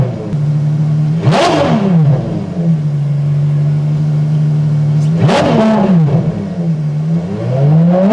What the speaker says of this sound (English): You can hear the sound of that 12-cylinder engine